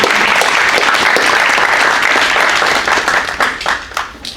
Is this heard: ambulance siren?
no